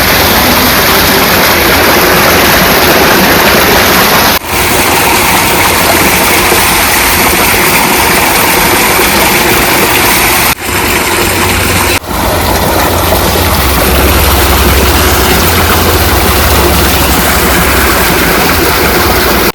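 Tubewell pump running in farm fields with a steady, loud rush of gushing water, continuous throughout with a low engine-like drone underneath and a few brief dips.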